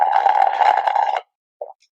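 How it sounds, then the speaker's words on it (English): A brief blowing whoosh across the mouth of an empty coffee bottle, close and fairly loud, ends abruptly, then a short hollow plop sounds after a pause. "well, my bottle of coffee."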